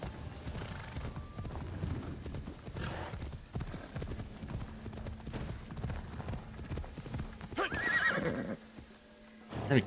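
A horse galloping in Assassin's Creed Shadows, its hooves drumming in a fast, steady beat, with loud neighs and whinnies breaking in near the end.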